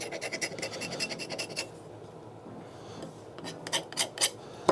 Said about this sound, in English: allows the sandpaper to just knock down the outside edges